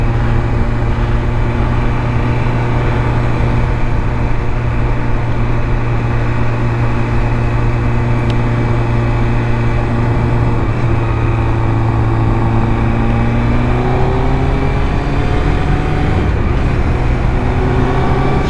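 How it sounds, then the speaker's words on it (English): A 2005 Triumph Daytona 650 motorcycle engine hums steadily while riding, a smooth sustained drone that slowly rises in pitch toward the end, loud and close with no talk. "Bike is just smooth engine, nice linear power."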